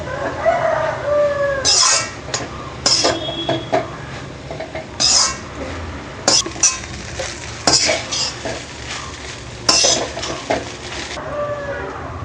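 Veg fried rice being stirred and tossed in a pan with a utensil, bursts of bright metallic scraping and clinking against the pan at irregular intervals over a steady background, no talking.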